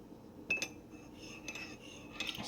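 A spoon stirs heavy whipping cream into a cup of coffee, producing a few faint clinks against the mug in a quiet room.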